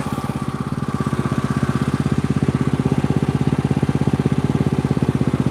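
Engine idling with a fast, even chugging pulse, loud and close, holding a steady rhythm throughout.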